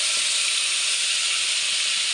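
Masala paste of tomato, cumin, ginger and green chilli hitting hot oil for palak paneer, giving a loud, close, continuous hissing sizzle that holds steady and then cuts off abruptly.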